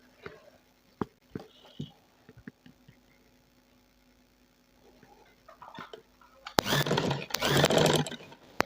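A sewing machine stitches lace onto folded fabric in a brief, loud burst near the end, after mostly quiet stretches with scattered small ticks and handling clicks.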